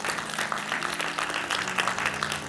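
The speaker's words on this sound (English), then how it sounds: "give a hand clap" A crowd gives a round of hand-clapping applause, a continuous irregular patter of many claps at steady loudness, with a low murmur of voices underneath.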